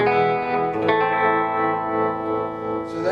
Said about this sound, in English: The tremolo is nice.